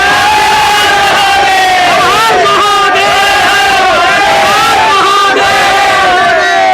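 A dense village-fair crowd roars a loud, sustained Mahadev jaykara chant in unison at a mountain-village mela, voices swelling and overlapping in rising waves without pause.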